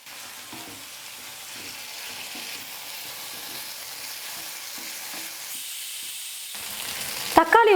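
Chopped tomato frying with sautéed onions in a pan makes a continuous soft sizzle with faint stirring scrapes, brightening near the end as a sharper utensil sound cuts in.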